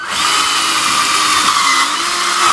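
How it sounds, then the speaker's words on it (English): A cordless drill with a weakening battery drives self-tapping screws into a pool fence gate while fitting a self-closing latch, giving one steady, loud, close high whine that runs continuously for a couple of seconds. "I think my drill's about to die"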